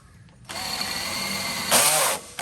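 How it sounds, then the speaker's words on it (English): A drill bit bores a hole during work on a car with a suspected blown engine, giving a steady high whirring grind that rises to a harsher, louder screech near the end before cutting out. "My drill bit's screaming for help."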